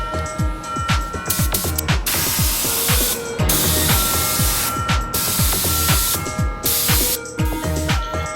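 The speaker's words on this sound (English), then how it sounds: "Spraying the clear coat is exactly the same." Spray gun laying clear coat onto a repaired plastic car bumper, a loud, steady hiss in continuous bursts with brief gaps between passes, close and alone, with mechanical ratcheting ticks mixed in.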